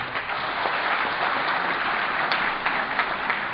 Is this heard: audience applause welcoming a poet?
yes